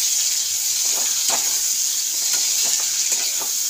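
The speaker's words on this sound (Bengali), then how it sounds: "পেঁয়াজটা একটু ভেজে নিই আমি ভালো করে" Onions sizzle in a pan with whole garam masala, a steady close frying hiss with scattered pops and crackles throughout and no voices.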